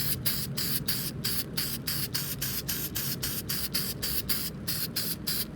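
Spray paint hisses onto GSXR1000 motorcycle parts such as the rear sets, coating them black, in a rapid, steady series of short, close bursts with brief gaps between them and no talking.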